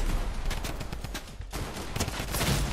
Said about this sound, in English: That wasn't the shotgun, that was the AK.